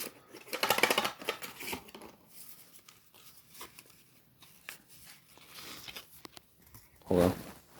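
Pokemon cards are pulled out and handled: close, soft rustling, sliding and crinkling of card packaging in irregular bursts, louder at the start and again near the end, faint between.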